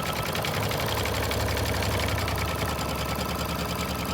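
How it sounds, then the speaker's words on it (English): A home embroidery sewing machine stitches a rosebud overlay in the hoop, working a tack-down line around a zigzag edge. It gives a steady, continuous mechanical whir and rapid needle clatter throughout, close and fairly loud. "the machine is just doing a straight stitch around the outside edge and the inside edge of this zigzag stitch"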